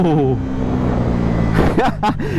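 Bajaj Pulsar NS400Z motorcycle pulling away in first gear, its engine revving and rising in pitch with sharp throttle blips, loud and close, as a rider talks over it.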